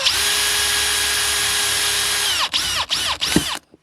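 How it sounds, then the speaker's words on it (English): A power drill whines at high speed, steady and loud, while cutting a hole in a plastic pipe cap, then stops and starts in several short bursts before falling silent. "I'm going to use a drill because that's the tool that I have"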